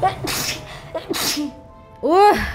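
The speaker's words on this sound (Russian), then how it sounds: "Ой, сейчас чихну" A person sneezes once, sharply and up close, during commentary over the game Hogwarts Legacy. A few quiet spoken words come just before it.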